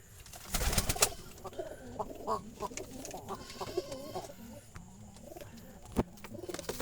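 Jalali pigeons kept in a basket coo softly in short repeated phrases, with scattered rustles and a few sharp knocks nearby, fairly quiet overall.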